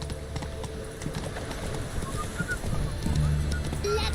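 Roach the horse galloping in The Witcher game, with rhythmic hoof clip-clops that grow louder toward the end, faint ambient game sounds and some voice underneath.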